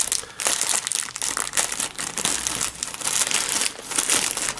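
Plastic packaging holding an XL t-shirt is torn open and crumpled by hand, a dense, continuous crinkling and crushing close up for several seconds, with no talking.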